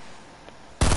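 Gunfire in a video game erupts abruptly after a quiet stretch, a loud, dense burst of rapid shots at the very end.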